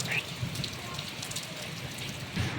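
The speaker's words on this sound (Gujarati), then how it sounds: "ચાલે છે વરસાદ" Rain falls steadily on a surface outdoors, a dense even patter of drops with a few louder close splashes, continuous and moderately loud throughout.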